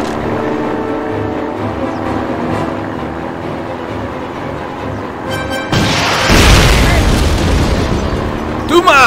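In Call of Duty, a bazooka fires and a loud explosion bursts out midway, its rumble following a stretch of in-game background noise, with a voice speaking over the scene.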